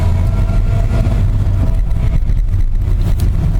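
A steady, loud engine drone with a low rumbling, ratcheting clatter underneath from a Spartan locker in a Ford F150 Dana 44 front axle on dry pavement, continuous throughout with no voices.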